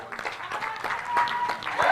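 Audience applauds at an honorary doctorate ceremony for Tanzania's President Samia Suluhu Hassan, a short burst of dense, moderately loud clapping from a crowd that swells slightly toward the end.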